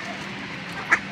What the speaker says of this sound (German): Werden die Enten gefüttert.